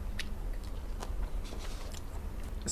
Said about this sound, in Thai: กัดได้ทั้งหัวเลยอ่ะ